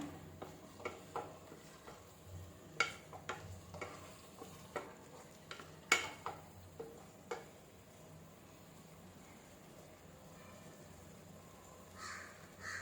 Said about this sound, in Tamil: காளான் சேர்ந்து வேகிற அளவுக்கு நல்லா கிளறிக்கலாம்